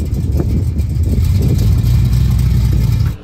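A light 1969 Dodge Dart with a roll cage and a 493 cubic inch big block Mopar engine rumbles loud and close with a deep, steady throb before cutting off abruptly at the end.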